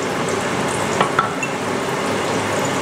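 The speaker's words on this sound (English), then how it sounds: "We're going to throw in chopped onion, give it a stir." Chopped onion and garlic fry in olive oil in a pan, a close steady sizzle with a couple of brief stirring scrapes near the middle.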